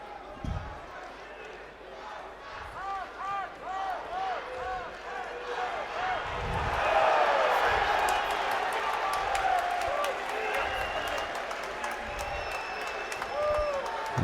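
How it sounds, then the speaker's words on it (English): A crowd in an arena at a European judo championship in Warsaw cheers and roars, swelling midway and staying loud under a commentator's voice, with thumps and scattered claps mixed in. "that cheer that you can hear in the background is for Guram Tusishvili of Georgia"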